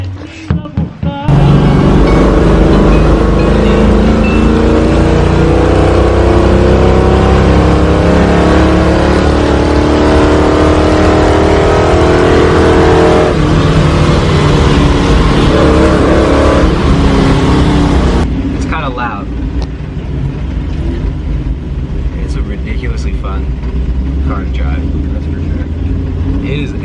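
A loud truck engine roars and revs steadily for a long stretch up close, then drops to a lower rumble while someone talks.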